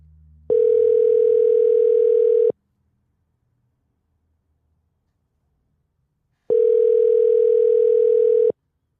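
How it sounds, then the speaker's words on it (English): A telephone call tone sounds in two steady two-second bursts separated by a long silent gap, loud and clean with no talking over it. "call Clancy. See if he answers."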